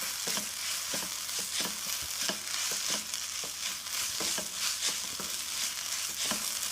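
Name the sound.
stirring and mixing breakfast mixture with chaat masala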